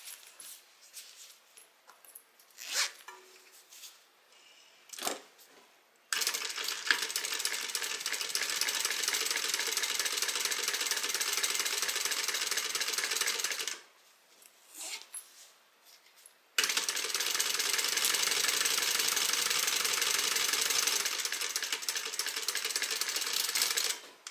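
A sewing machine top stitches across a bag panel in two long, steady runs of fast whirring. Brief handling clicks and quiet pauses come before and between the runs.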